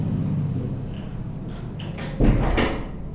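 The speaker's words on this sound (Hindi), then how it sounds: "बार बार दरवाजा ओपन हो जा रहा था" A door opening indoors during a home chemistry lesson: a sharp clunk and creak near the end, loud and close over a steady low room hum, with no talking.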